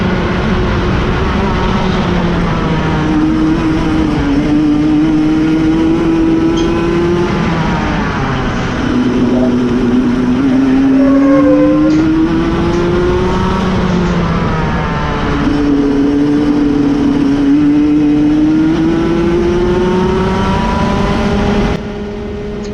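A go-kart engine drones through practice laps on a damp track, its whiny pitch rising on each straight and dropping into corners in repeated sweeping cycles, loud and close, cutting off sharply near the end.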